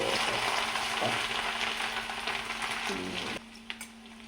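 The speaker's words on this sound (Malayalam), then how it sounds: "ഇനി നമുക്ക് ഈ കോളിഫ്ലവർ എണ്ണയിലേക്ക് കുറേശ്ശെ കുറേശ്ശെ ഇട്ട് കൊടുക്കാം" Cauliflower florets for gobi manchurian frying in hot oil, a steady close sizzle and bubbling that later drops in level, with a few light knocks of a utensil against the pan near the end.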